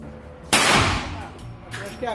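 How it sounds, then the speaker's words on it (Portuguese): A single sharp gunshot at a gun club shooting range in Miami cracks loudly, then rings out in a decaying echo, with faint voices afterward. "pratica tiro ao alvo em um clube de tiro em Miami"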